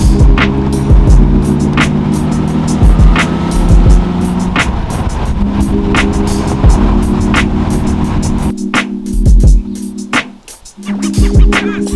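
A BMW E36 with its cooling system filled with hose water drives on a test run, its engine droning loud and close with shifting pitch, road noise and scattered clicks, easing briefly near the end.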